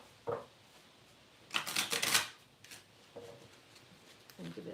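Tarot cards riffle-shuffled in a quick papery burst, with a few lighter card taps before and after, close and fairly quiet.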